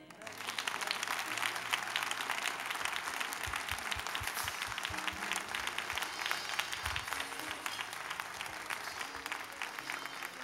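Sustained audience applause from a church congregation honouring a graduate, dense steady clapping at even loudness throughout, with a few low thumps partway through and a faint voice underneath.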